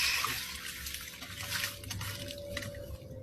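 Water pouring and splashing out of a sealed metal lamp, uneven gurgling spills and drips at close range, fairly quiet with no voices.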